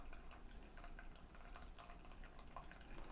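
Water pours into a MiiR Pourigami camping coffee brewer, a soft continuous trickle and splash with faint clinks, quiet and close, with no talking.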